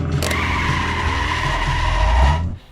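A car's tyres skid and squeal through a turn in a sustained, loud screech with engine noise beneath, building slightly before cutting off abruptly near the end.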